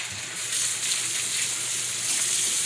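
Tomato curry with potatoes and vegetables frying in a pan, a steady close-up hiss and sizzle with no talk.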